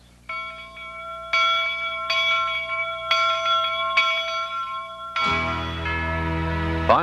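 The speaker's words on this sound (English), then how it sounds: "we think we've got some pretty sweet sounding bells on these locomotives" Machined brass bell on a Jupiter or 119 replica steam locomotive rings five clear, sustained strokes in a steady rhythm, each tone ringing on and overlapping the next, followed by a louder, rumbling mechanical noise near the end.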